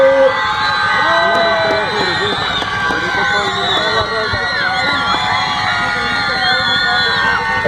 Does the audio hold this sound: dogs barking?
no